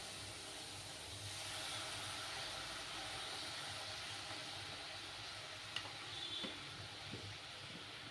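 Water and sugar hiss and sizzle steadily in a pan over low heat as caramel begins to form for a Bengali milk sweet. The sound is quiet and close, with a few faint clinks and no talk.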